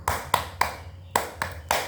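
Hand claps following a children's Islamic clapping song, six sharp claps in a rhythmic pattern with a short gap in the middle, close and clear with no voices.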